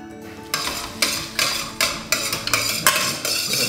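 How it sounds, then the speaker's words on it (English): Pasta with fresh arugula and cubes of salted butter being stirred in a pan, rhythmic scraping strokes of a utensil against metal about every half second, loud and close over a faint sizzle. "Go ahead and stir it."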